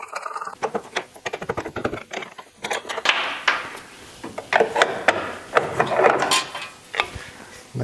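A bolt comes loose from the lower control arm of a Porsche Boxster's front suspension, with close, irregular bursts of ratcheting clicks and metallic taps stopping and starting.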